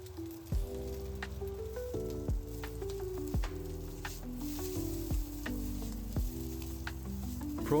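Prawns fry in a hot wok, a steady soft sizzle with occasional crackles sitting under louder background music with stepped melodic notes.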